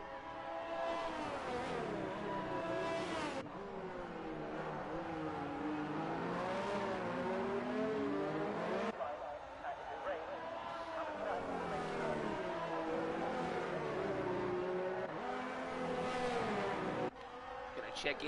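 Formula 1 race cars in an F1 video game, lapping Monaco in the wet around the hairpin: a steady engine drone with rising and falling revs across gear changes, under continuous commentary.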